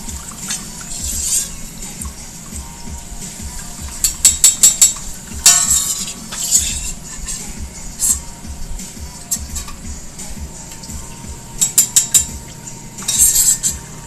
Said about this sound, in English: Nothing like chasing little onion strands around a wok.